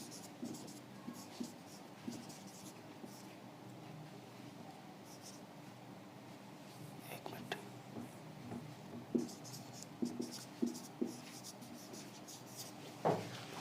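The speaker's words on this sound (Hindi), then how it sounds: "तो अब जैसे कोई हम यहाँ पे एक वर्ड लिख लेते हैं" Chalk or marker strokes on a classroom board during a beginner English word-formation lesson, soft intermittent scratches and taps scattered over a faint room hum, growing sharper toward the end, with no talking.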